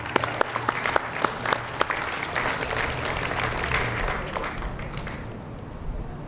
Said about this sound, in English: Katie, let's give her an applause.